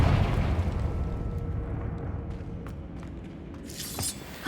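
A Confringo blasting spell goes off in Hogwarts Legacy, a loud, booming blast at the start that rumbles and fades over several seconds, ending with a short crackling burst.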